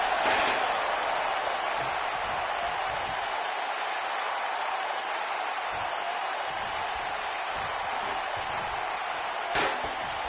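Crowd noise in the WWE 2K19 wrestling video game, a broad steady roar of cheering and applause sustained throughout, with a sharp slam-like hit near the start and another near the end.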